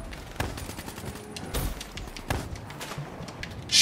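Scattered rapid gunshots crack through a Black Ops 3 Zombies match, sharp, irregular bursts of varying distance over a low game background, ending with a louder blast.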